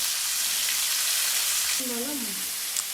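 Onions frying in a pan for village-style mutton curry, a steady bright sizzle throughout with a short tonal squeak or voice-like sound midway.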